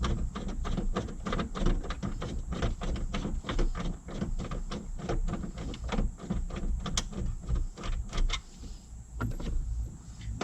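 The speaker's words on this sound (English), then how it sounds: "Next, you need 7mm just socket or a nut driver. You got to take out these 6 screws." A 7mm socket or nut driver backing six screws out of a Silverado dash panel, a long close run of quick ratcheting clicks and rattles that keeps going steadily with no voices.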